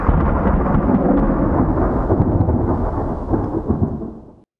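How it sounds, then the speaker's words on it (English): Loud simulated thunder from the Active Sky weather add-on for a flight simulator: a long, deep rolling rumble that holds steady for several seconds and then fades and cuts off, with no talking. "Don't worry about the thunder."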